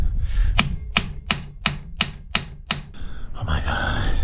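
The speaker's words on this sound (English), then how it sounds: "But I think it's the hammering that's making the difference here." Hammer blows on a seized bolt of a bow thruster aboard an Amel Super Maramu sailboat, seven sharp metallic strikes in a steady rhythm, close and loud, followed by scraping and handling noise.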